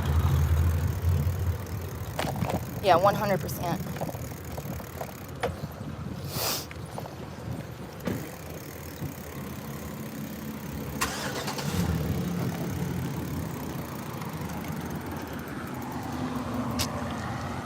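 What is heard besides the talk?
cars driving and idling on the road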